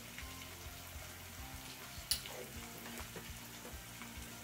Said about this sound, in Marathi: यामध्ये आपण 2 चिमूट म्हणजे 2 पिंच हिंग देखील घालतोय बरं का।